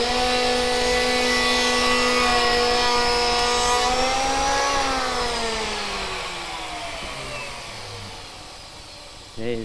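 An electric power planer on timber whines at a steady high pitch, then winds down with a falling tone as the blade spins to a stop, ending with a brief knock.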